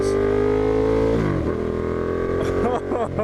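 Ducati Diavel motorcycle, a 2015 carbon version with aftermarket exhausts, idling loudly close by and then revving up and down in quick throttle blips with popping.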